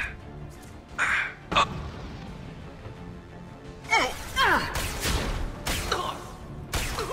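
Within the Mass Effect 2 video game, a bird caws in several short, sharp bursts among whooshing game effects, with intermittent loud sounds and no clear talk over it.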